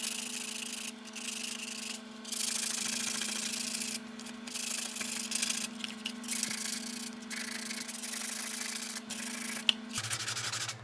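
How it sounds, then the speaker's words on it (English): Fine sandpaper worked by hand along the edges of a Canik Elite Combat holster, a steady continuous rasping in broad strokes lasting several seconds, close and moderately loud, with a low hum underneath and no talking. "Just go over with some fine sandpaper, try and get rid of any super sharp edges"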